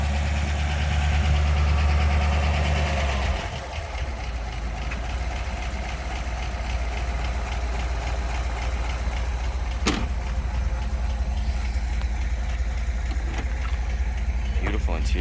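A 1956 Ford Thunderbird's engine idles steadily at a low, slightly slow speed, with a louder rev or stronger idle in the first few seconds before it settles into a constant rumble under faint talk.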